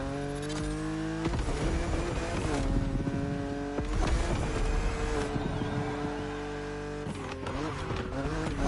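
A BMW Z roadster races in The Crew Motorfest, its engine loud and continuous, revving and shifting through gears with sharp changes in pitch and brief tire noise, with no talk over it.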